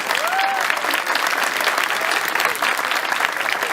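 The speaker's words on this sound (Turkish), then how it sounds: "Tabi burada bir alkış bekliyordum" An audience claps loudly and continuously at an iftar gathering in Ankara, dense applause with a faint whistle-like tone early on.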